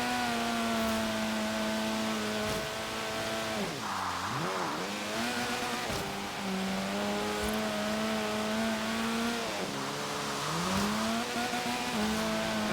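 D-class race car driving in the video game Forza Horizon 3, its engine note droning steadily and climbing, dipping twice as it shifts or brakes and then revving back up, loud and continuous with no talk.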